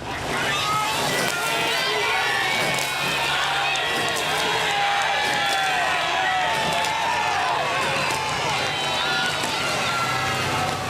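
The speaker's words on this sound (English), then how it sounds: "What a cocktail of noise, the crowd, the blades, the coxes, the umpires launch" At the start of a Henley Royal Regatta 2015 Grand Challenge Cup final, Dortmund against Leander & Molesey, a dense roaring crowd mixes with splashing oar blades, coxes' shouts and the umpires' launch, all in a loud, unbroken wash of noise.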